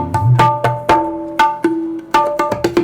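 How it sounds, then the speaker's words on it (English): Tabla drums play a lively pattern of sharp strokes, ringing tuned treble taps and resonant bass thumps with pitch-bent sustain, close and loud with no voices. "we recorded tabla, which sounds something like this"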